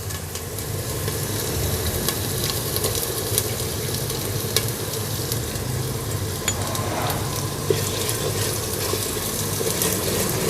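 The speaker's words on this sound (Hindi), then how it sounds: "प्याज को मैंने अच्छे से भून लिया।" Onions frying in a pan while cooking arbi chicken, a steady, dense sizzle with stirring scrapes throughout, close and continuous with no talking.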